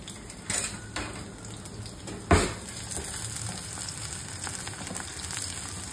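Garlic fries in a pan for a Konkani tendle dish, a low steady sizzle throughout with a sharp clatter of a utensil against the pan midway.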